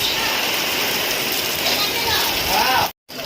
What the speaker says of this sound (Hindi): बहुत जोर वर्षा हो